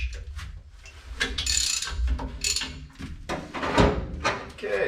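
Wrench ratcheting on a bolt of a VW engine during engine and transmission removal, with close clicking ratchet strokes mixed with metallic clanks and handling noise.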